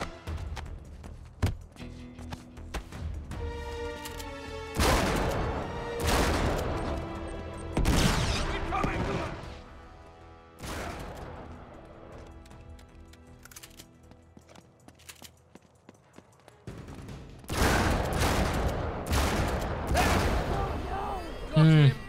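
Gunfire in Uncharted 3: Drake's Deception bursts out in loud clustered volleys of shots and booms, separated by quieter gaps with game sounds and voices talking.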